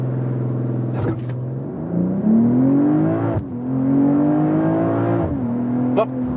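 BMW M340i, a 2023 3 Series, pulling hard from a launch-control start: a loud, close engine roar climbs steadily through the gears with brief shift breaks, a car-interior drone throughout.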